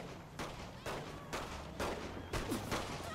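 Gunfire in Saints Row: The Third Remastered, a series of about six sharp gunshot bursts evenly spaced roughly half a second apart, each with a short echoing tail over a low background.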